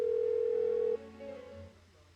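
An unanswered phone call in Persona 4 Golden gives a steady, loud ringing tone lasting about a second, then cuts off and leaves a faint low hum that fades away.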